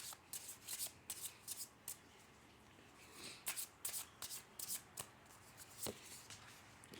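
Tarot cards are shuffled close up in quiet, crisp bursts of riffling and papery slapping, repeated in short uneven clusters throughout.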